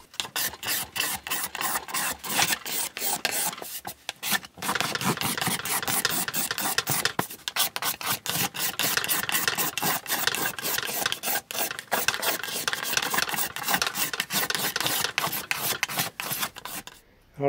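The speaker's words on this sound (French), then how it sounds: "maintenant je vais faire un fini au racloir directement pour vraiment avoir une qualité nickel de finition" A hand card scraper rasps across the wooden top of an old table being refinished, steady rapid back-and-forth scraping strokes close up, with one brief pause early on and no talking.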